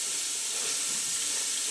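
Carrots, beans and capsicum frying together in hot oil for fried rice, a steady bright hiss of sizzling that stays even and close, with no voices.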